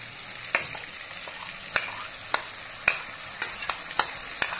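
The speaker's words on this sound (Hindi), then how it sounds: "मैरिनेटेड चिकन जो है वो ऑलमोस्ट फ्राई हो चुका है।" Marinated chicken sizzles steadily in a pan while a utensil scrapes and stirs it in repeated sharp clicks, close and without talk.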